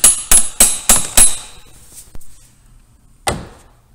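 A VW Golf mk4 TDI valve cover is tapped down into place: five sharp, evenly spaced metallic knocks, then two fainter taps and one last louder knock after a short pause.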